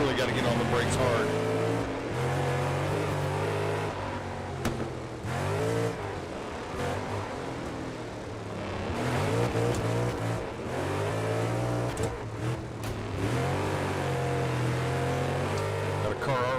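Race car engine in a dirt-track racing video game, droning and revving steadily at close range with pitch sweeping up and down through corners and braking, continuous throughout with someone talking over it.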